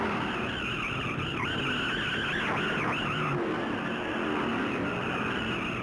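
A 4,000-pound Ford stock car skids down the main straightaway at the 1964 Darlington Southern 500, tires squealing in wavering tones over a steady roar of racing engines and crowd noise.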